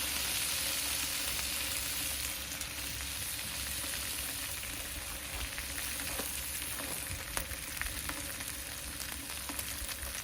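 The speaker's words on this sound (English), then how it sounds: "now when it's almost done, give it a quick sear for taste and looks" An A5 Japanese wagyu steak gets a final sear at the end of a smoked reverse sear. The sizzle is faint and steady throughout, with a few small pops and crackles.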